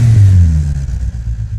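Honda C30A V6 from the NSX, running on 91 octane fuel in the Automation car-building game, revs loudly and alone: a strong low engine note that climbs, then eases into a rougher, fluttering idle-like drone.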